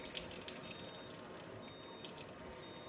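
Enagic Kangen SD501 water ionizer dispensing water in a steady, soft stream, a continuous faint splashing flow with no talk.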